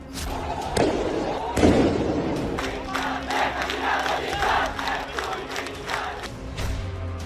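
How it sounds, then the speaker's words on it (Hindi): Crowd during unrest in Bangladesh, a dense roar of shouting and chanting voices with scattered sharp bangs and thuds through it, heard from a moderate distance in a noisy street. "गोलीबारी, नारेबाजी और खून खराबा"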